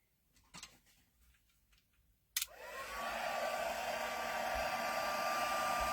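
A heat tool used to heat-set ink on handmade cards clicks on and settles into a steady, loud, close blowing whir that holds for several seconds after faint handling noises at the start.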